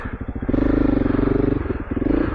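A Honda CRF300L Rally motorcycle with a new aftermarket exhaust chugs along a trail, its single-cylinder engine giving a loud, close, throbbing grunt as it pulls under load with slight clatter.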